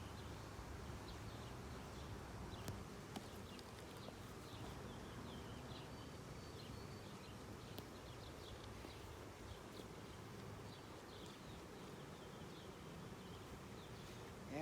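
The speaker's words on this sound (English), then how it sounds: "there's 300 bees in here roughly" Roughly 300 honey bees confined in a varroa sampling jar give off a steady, dense buzzing drone that holds close and even throughout, with no talking.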